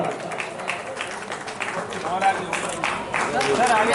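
Crowd at a cycle rally reception in Lalitpur applauding arriving soldiers, steady outdoor clapping from many people with a few shouts and voices mixed in, moderately loud and continuous.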